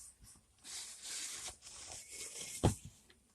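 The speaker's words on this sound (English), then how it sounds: "And just take your knife down it," A knife dragged along a straight edge through an old tire, a rough scraping rasp rising and falling over a few seconds with one sharp loud snap near the end, close by.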